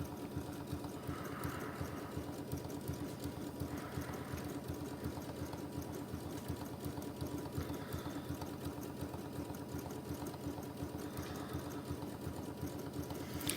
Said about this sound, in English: you can see I am doing a reinforced straight stitch